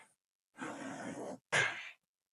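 A person drawing a long, deep breath in through both nose and mouth, then a shorter forceful exhale after a brief pause, close and clearly audible in quiet surroundings.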